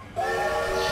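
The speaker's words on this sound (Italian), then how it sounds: "Oddio, sto treno mi fa prendere i colpi." A steam train whistle in the video game Sniper Elite V2 starts abruptly and holds as one loud, sustained, hissing blast, alone and close.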